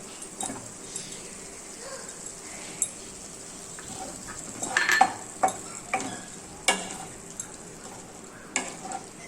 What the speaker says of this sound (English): I am giving it a stir